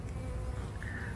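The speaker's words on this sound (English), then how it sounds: "the bees are getting really stingy" Bees buzz at a beehive kept in a shipping container, a soft, continuous droning hum with no voices.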